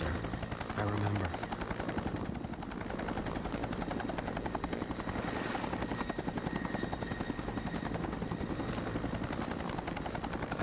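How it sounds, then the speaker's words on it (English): A helicopter in the intro of the XIII Remake video game, its rotor chop a steady, loud, dense thudding that carries unbroken through the whole stretch, with faint bursts of gunfire-like noise mixed in. "The helicopter."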